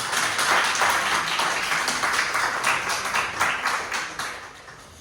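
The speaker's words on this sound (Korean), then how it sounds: "우리 박수로 환영해 주시기 바랍니다." A church congregation claps to welcome a visiting family of a member, daughter and granddaughter, during a Sabbath service; dense, steady applause fills the room for about five seconds, then starts to thin out.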